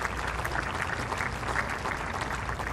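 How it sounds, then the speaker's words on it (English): A tennis crowd at a Winston-Salem match applauds after match point, with dense, steady clapping that stays even throughout and no voices standing out. "Let's have a big round of applause"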